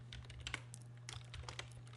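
Quick typing on a computer keyboard, a rapid run of soft clicks and taps with brief pauses, close but faint over a low steady hum, with no voices.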